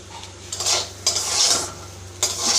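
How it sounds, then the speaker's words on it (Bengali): Semolina and vegetables fried in a pan for a savoury sooji dish. A spoon scrapes and clinks against the metal in a few quick strokes over a low sizzle, close and alone. "সুজি দিয়ে সবজি দিয়ে প্রায় দু চার মিনিট ভেজে নিচ্ছি"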